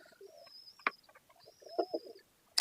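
Pigeon cooing from show-quality red-eyed pigeons kept for tournament flying, in soft repeated calls with a few sharper clicks, fairly close and clear against a quiet background.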